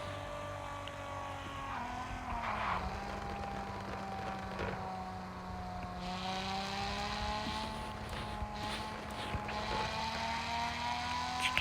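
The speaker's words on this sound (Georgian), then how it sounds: "განახებთ ამ მანქანის მაქსი ჩქარეს" A jeep is driven flat out at top speed on an autobahn. Its engine holds a steady, loud drone that climbs gradually in pitch, with wind and road roar filling the cabin throughout.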